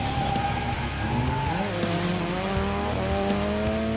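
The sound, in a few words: car drifting with tire squeal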